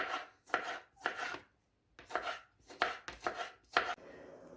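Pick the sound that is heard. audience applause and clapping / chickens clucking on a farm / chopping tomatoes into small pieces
chopping tomatoes into small pieces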